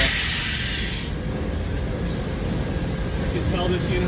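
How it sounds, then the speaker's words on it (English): Steam leaking from a valve's packing in a commercial mechanical room gives a loud, bright hiss that cuts off after about a second, leaving a steady low roar of machinery. "see a steam leak coming from the packing right there"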